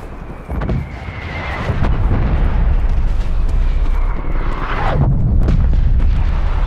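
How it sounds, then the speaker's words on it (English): Artillery strike in Call of Duty: Black Ops Cold War, heavy booming explosions rolling in one after another into a loud, sustained rumble of blasts and debris, close and dominant. "Targeting detected. Artillery inbound."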